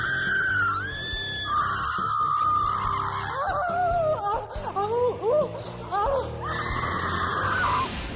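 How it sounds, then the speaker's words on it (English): Hopefuls auditioning to be Mistress of the Dark at the haunted Queen Mary let out long, loud, wavering screams one after another, some shrill and sustained, others broken into shrieking bursts and cackles. "hundreds of Mistress of the Dark hopefuls gathered for the ultimate scream test"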